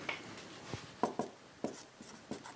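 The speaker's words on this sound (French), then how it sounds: "je vais écrire appartient à," Pen or marker strokes writing a mathematical symbol, a series of soft scratchy strokes in irregular rhythm, close and fairly quiet with no talking.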